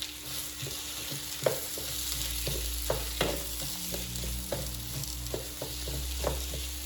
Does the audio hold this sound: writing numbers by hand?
no